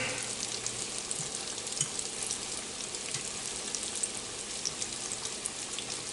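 Cod fish cakes fry in a pan with a soft, even sizzle and scattered tiny pops, a faint continuous crackle throughout with no talking.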